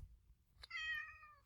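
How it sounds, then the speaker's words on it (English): A single faint cat meow, drawn out and slightly falling, heard indoors and distant in a quiet room, with a soft click just before it and another at the end. "there goes the cat again."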